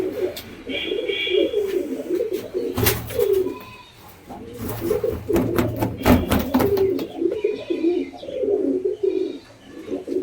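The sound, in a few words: pair of Giribaz pigeons (Kalpetia) cooing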